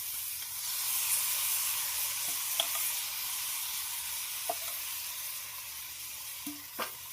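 A pot of pulao sizzles and hisses steadily after water is poured in at an outdoor campsite cooking spot, with a few light clinks of utensils over the continuous bubbling steam.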